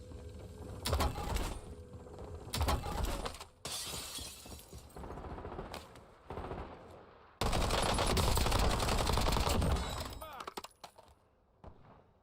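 Heavy automatic gunfire and sharp shots in Call of Duty: Warzone come in loud, dense bursts, with a long sustained barrage near the end. Some talk appears between the volleys.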